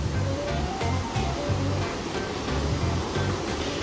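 Waterfall on the Ingleton trail near Carnforth, UK, a loud continuous roar of rushing, splashing water with no voices.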